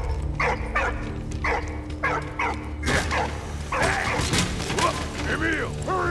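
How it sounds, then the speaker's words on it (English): A puppy barks and whimpers in the video game Valiant Hearts, with several short yips in the first half. A louder burst of game noise and mechanical clatter follows, with a voice talking over parts of it. "Let's go, puppy."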